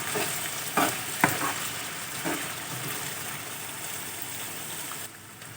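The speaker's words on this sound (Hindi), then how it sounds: "अब ये आलू हमने इसके अंदर डाल दिए हैं और प्याज के साथ हमने इन आलूओं को फ्राई कर लेना है।" Sliced potatoes and onions fry in a pan with a soft, steady sizzle, broken by a few sharp scraping clinks of stirring early on before the sizzle quiets.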